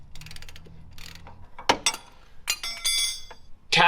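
A hand ratchet tightens a steering bracket on a car. Several bursts of quick, sharp metallic clicking come close to the microphone, broken by pauses and a few light clinks of metal.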